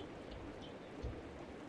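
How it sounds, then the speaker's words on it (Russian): Steady thunderstorm rain patter in the game DISTRAINT hisses across the whole moment, with a faint low rumble of thunder swelling near the end. "за окном гроза"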